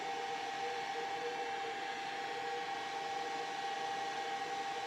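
A hair dryer blows with a steady, even whoosh and hum that keeps going at the same level from start to finish, with no voices.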